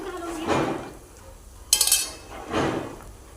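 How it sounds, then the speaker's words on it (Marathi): A metal spoon clinks sharply against a cooking pan while salt is added to a green mung bean dish, a few quick bright taps among soft scraping and stirring sounds. "तर मी आता यात 1 चमचा मीठ घालते"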